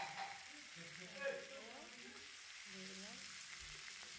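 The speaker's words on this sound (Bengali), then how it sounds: "সব দিয়ে এবার ভালো করে ভেজে নেবো।" Potatoes and tomato fry in a pan, with a steady soft sizzle and occasional stirring scrapes, quiet and close throughout.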